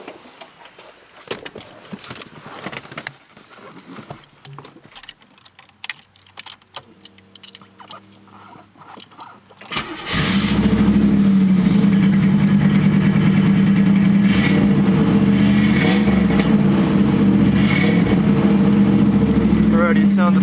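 A 1986 Camaro IROC-Z, its exhaust freshly repaired and leak-free, cranks over and catches, then settles into a loud, steady, close idle with a deep, even rumble after a stretch of clicks and handling noise.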